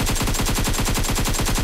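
Rapid, evenly spaced automatic gunfire from an AKM in the video game PUBG Mobile. It comes as one loud, continuous burst of about sixteen sharp shots in quick rhythm, with no talk over it.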